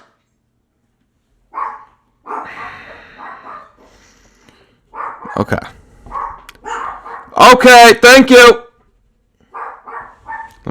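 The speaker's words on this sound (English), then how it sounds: "Now the dogs are barking." Indoor dogs barking in a tight cluster of several loud, close barks near the end, following quieter scattered sounds, with someone speaking briefly between them.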